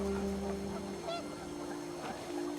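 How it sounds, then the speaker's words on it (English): Panicked geese honking in the video game What Remains of Edith Finch, a few short goose calls rising over a steady windy, droning background, with no talking. "The wind picked up, and panicked geese appeared and quickly went"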